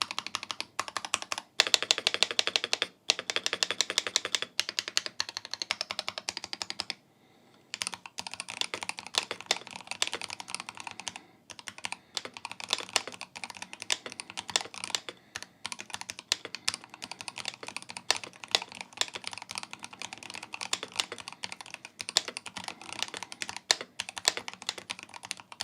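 Rapid typing on a GMMK 3 PRO HE mechanical keyboard, close and clear bursts of crisp key clacks with a short pause midway, then steady continuous typing.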